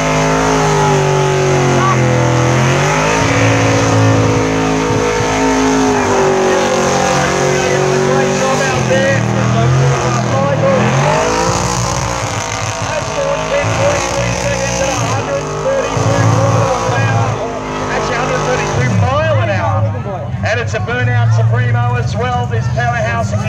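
Powerful engines, including a Holden HQ Monaro, rumble and rev loudly at a motor festival crowd event, a sustained throaty drone with pitch swells and a sharper high revving burst near the end, voices speaking over it.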